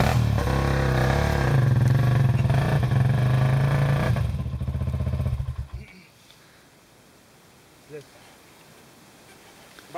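A Honda motorcycle engine idles and revs loudly up close for several seconds, then cuts out, leaving quiet background with a brief thump; voices are present.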